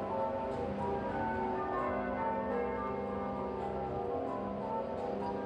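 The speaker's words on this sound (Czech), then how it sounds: "V pravé poledne místního času se rozezněly po celé zemi zvony" Church bells peal across Britain at noon in mourning for Queen Elizabeth II, a continuous layered ringing with sustained overlapping tones, distant and steady, with no voices.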